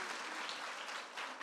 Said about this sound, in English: Clap for yourself, actually.